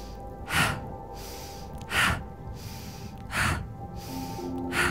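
Breathing from a beginner morning yoga session, with three strong, breathy exhales spaced about 1.5 seconds apart over a soft room hum, each a short rushing puff with no talking.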